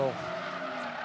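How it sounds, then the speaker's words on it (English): During a 2022 Macau Grand Prix GT Cup race, a safety car skids into a massive understeer. A short burst of engine and tyre scrub is heard under a talking voice. "that was a massive understeering moment from the safety car"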